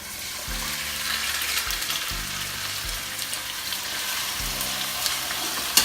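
A fish fillet fries in a pan with toasted garlic, producing a close, steady hissing sizzle throughout, with faint low thumps underneath and a small knock at the end.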